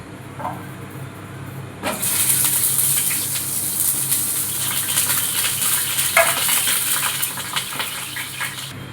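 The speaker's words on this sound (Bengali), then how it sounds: "মাংসর আলু ভাজার জন্য কড়াইয়ে ফ্রাই প্যানে তেল দিয়ে দিচ্ছি। আলুটা ভেজে নিই।" Potatoes for a country chicken curry go into hot oil in a frying pan: a sudden burst of loud sizzling that then settles into a steady, crackling fry, close by and alone.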